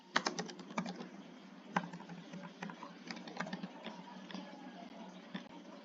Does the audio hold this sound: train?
no